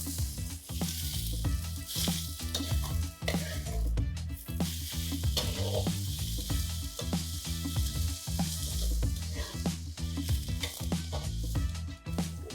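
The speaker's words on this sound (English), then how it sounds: "add 3 sliced onions. And just brown them. Brown them really well." Three sliced onions browning in hot ghee in a pan, a loud, continuous close-up sizzle broken by the frequent clatter and scrape of stirring throughout.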